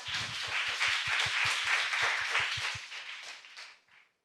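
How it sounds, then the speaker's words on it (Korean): Audience applause at a national competition event: a dense, steady burst of many hands clapping with a rhythmic group clap pattern, sustained for a few seconds before tapering off and fading to silence. "네, 큰 박수 부탁드립니다."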